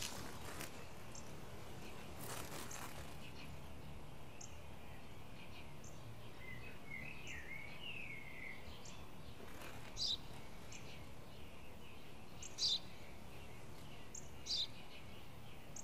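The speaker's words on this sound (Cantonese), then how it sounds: "一隻麻雀" A sparrow gives a few short, faint chirps, spaced a couple of seconds apart, against a quiet background hiss.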